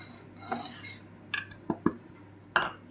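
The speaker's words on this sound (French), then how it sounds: "On va mélanger le sucre" A utensil mixes sugar in a bowl, making a few sharp clinks and scrapes against the dish spaced across a few seconds, close and clear with no talk.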